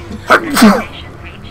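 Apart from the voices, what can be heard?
sneeze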